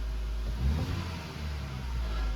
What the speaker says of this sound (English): The minute I give it wide open throttle,